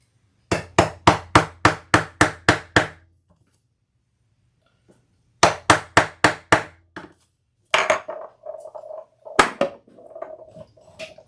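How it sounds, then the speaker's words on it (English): A hammer strikes repeatedly to cut a hole, in a quick run of about eight sharp, even blows, a pause, then another run of five, followed by scattered knocks and scraping, close and crisp. "And cut my hole. It's going to be a little tiny bit of noise."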